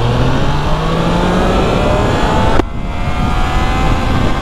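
A Triumph Trident 660 three-cylinder motorcycle engine revs high in second gear and strains steadily, then abruptly cuts and drops in pitch as it hits the rev limiter, continuing to drone afterward.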